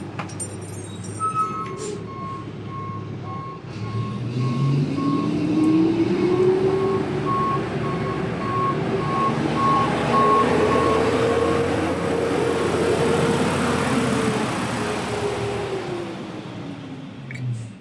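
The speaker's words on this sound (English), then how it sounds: "Told you the garbage truck was going to be coming by." A large garbage truck engine rumbles and revs close by while a steady series of high reversing beeps repeats through the first half, with clinking rattles.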